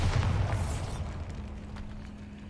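The Bombarda blasting spell goes off in a Harry Potter video game with a loud, close explosive boom that hits at once, then rumbles and decays over about two seconds into a faint lingering hum.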